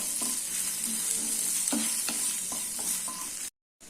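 Kozhukattai, small rice-flour dumplings, are stirred through a sizzling tempering with a pinch of asafoetida, the hiss steady while a spoon scrapes the pan several times; the sound cuts out briefly near the end, with no one speaking.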